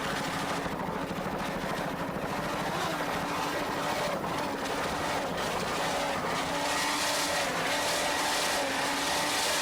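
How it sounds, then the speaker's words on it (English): The 900-horsepower Stotler engines of the offshore powerboat Predator, with Mercruiser drives, roar steadily and loud through a 1993 Fort Lauderdale offshore race, a continuous throbbing drone with shifting pitch and rushing water. "You can hear throttle man Herb Stotler there doing a fine job with those 900 horsepower Stotler engines."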